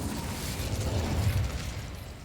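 A fire spell cast in Hogwarts Legacy, a burst of crackling magical flame with a low rumbling boom, steady and dense throughout a short game battle moment, with no talk.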